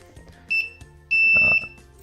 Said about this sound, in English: Actually, I'll turn this buzzer on so you can physically hear when it.